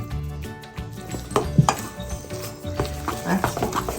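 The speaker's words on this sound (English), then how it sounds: "And just mix that well." Buckwheat pancake batter being mixed in a bowl, with irregular clinks and scrapes of a utensil against the bowl, close and moderately loud, no talk.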